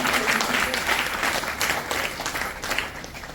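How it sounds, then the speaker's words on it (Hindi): Dense, steady applause from a crowd at a district cabinet meeting, loud and continuous throughout with a brief voice or two mixed in. "वापस एक जोरदार तालियां आप सभी अपनी"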